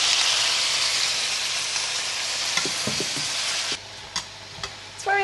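Aubergine slices frying in a hot pan in a home kitchen, a loud steady sizzle and hiss that suddenly drops to quieter crackling, with a few clinks and stirring scrapes near the end.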